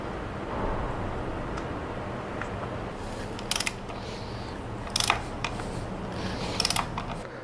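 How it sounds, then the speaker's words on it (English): Small mechanical clicks as a screw is fitted back into a Yamaha Banshee kick start assembly, three brief bursts of ratcheting metal over a steady quiet room hum. "So I'm going to go ahead and put the screw back in its place."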